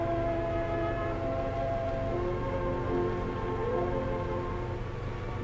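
A train rumbles steadily along the Chinese Eastern Railroad in Manchuria, its low continuous drone and droning tones filling the scene with no break.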